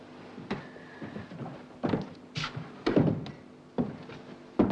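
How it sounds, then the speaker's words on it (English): A door being shut indoors: a series of dull thunks and knocks, several irregular impacts close by, with no one talking. "Shut the door, I'm cold."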